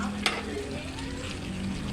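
Vinegar simmering in a pan for chicken feet adobo, a soft steady sizzling bubble with a small clink early on, fairly quiet and without talk.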